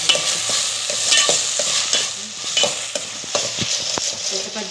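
Chana masala with ginger and garlic sizzles in a hot pan while a spoon stirs it steadily, scraping and clicking against the metal in irregular strokes over a continuous close, loud frying hiss.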